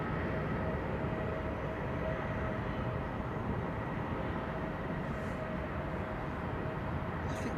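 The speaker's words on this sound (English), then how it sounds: "I think they're running the engines." Jet engine run-up at Heathrow Airport, a steady loud broadband roar with a sustained tonal whine, constant and distant-to-mid range with no talk.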